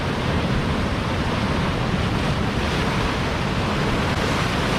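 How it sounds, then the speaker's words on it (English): Surf breaking along the rocky coast of Jaco, Costa Rica, a steady loud wash of waves with wind buffeting the microphone, continuous throughout with no voices. "There's great waves out here."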